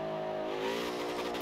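Forza Horizon 4 car engine revving hard in the game, a loud sustained roar with rising harmonic pitch that builds and holds through the moment, alone without talk.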